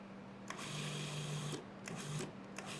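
A food processor pulses basil pesto in short motorized bursts, several quick whirring pulses separated by brief pauses, fairly quiet and close, with no talking.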